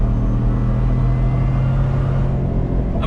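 A Ford F-150 Harley-Davidson pickup truck accelerating, its engine holding a steady, loud low rumble close by with a constant drone throughout.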